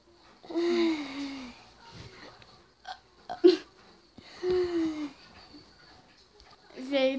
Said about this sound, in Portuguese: Jeito de arrotar de pobre.